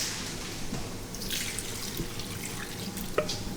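Beef broth is poured into a pressure cooker, a soft trickling and splashing of liquid at a modest level, with a small clink near the end and no talking.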